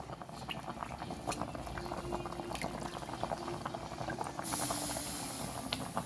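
Vegetables tipped into a pot of boiling liquid while cooking, with steady bubbling and steam hiss throughout and a brief splash of addition; the sound is close and continuous, with no talk.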